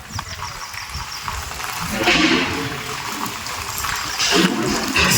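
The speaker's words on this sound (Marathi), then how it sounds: "परत पाऊस आलं" Steady rain falls outdoors with a loud, close, broadband hiss that swells in heavier bursts.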